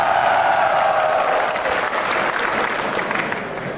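A Fliptop rap battle crowd roars with shouting and cheering over thick applause, the vocal cheer strongest at first and the clapping continuing loud and steady before easing slightly.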